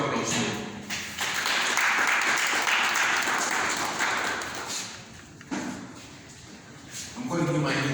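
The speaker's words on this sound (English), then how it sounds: "Round of applause." An audience at a school alumni cooperative society inauguration breaks into applause, a dense wash of clapping that swells, eases and returns, with a voice talking over parts of it.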